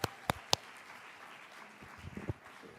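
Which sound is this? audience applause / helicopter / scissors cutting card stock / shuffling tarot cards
audience applause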